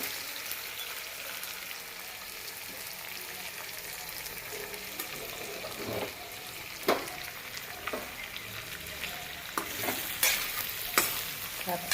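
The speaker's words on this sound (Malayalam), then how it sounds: "നമുക്കിതൊന്ന് ഇളക്കി കൊടുക്കാം" Potato and capsicum masala cooking in a pan: a steady low frying sizzle with periodic stirring scrapes and taps of a spoon that grow more frequent toward the end, close and moderately quiet.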